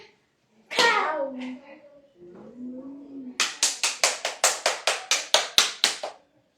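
A steady run of about a dozen sharp hand claps, close and loud, follows a voice speaking briefly.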